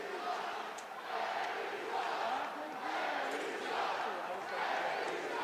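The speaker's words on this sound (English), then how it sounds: "I don't know if you can hear that on AHL TV, but crowd displeased with the referee." An arena crowd at an AHL hockey game between the Springfield Thunderbirds and Providence Bruins voices displeasure with the referee, a distant, swelling roar of boos and shouts rising and falling in waves.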